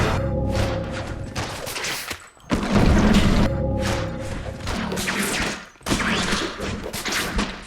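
Bursts of gunfire and heavy thuds from the Spider-Man: Web of Shadows video game, loud and sustained in three long volleys separated by short pauses, with game music and effects layered underneath.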